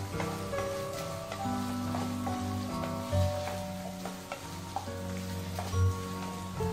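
Tomatoes with salt sautéing in a pan for a mushroom biryani, giving a steady close sizzle with soft stirring scrapes throughout and no talk.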